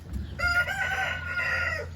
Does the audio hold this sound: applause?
no